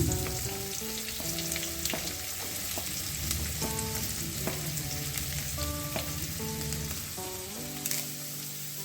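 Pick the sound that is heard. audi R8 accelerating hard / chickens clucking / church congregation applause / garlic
garlic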